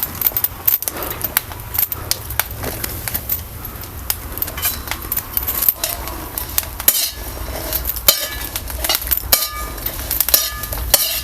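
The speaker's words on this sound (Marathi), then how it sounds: "असंच आपल्याला सारखं आहे ना असं हलवत हलवत आहे ना हे चांगलंसं भाजून घ्यायचं आहे" Green chillies dry-roasting in a pan with no oil, stirred continuously, giving a steady scraping, clattering metal rattle with frequent clinks throughout, close and fairly loud.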